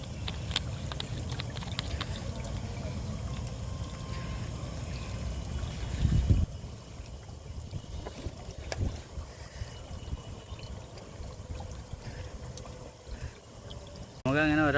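Water flows continuously near a rock outcrop with a constant broadband rushing, joined by occasional knocks and a brief louder burst near the middle, while voices talk at times.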